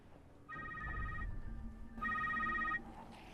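A phone rings in The Secret World, two electronic trilling bursts with a pause between them, clear and moderately close over a low background rumble.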